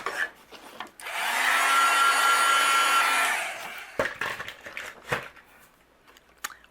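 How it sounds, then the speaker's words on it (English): A heat gun blows hot air to melt white embossing powder, a loud steady whir lasting about two seconds before switching off, followed by light handling sounds. "And then I'll use my heat gun, and we'll go ahead and melt this."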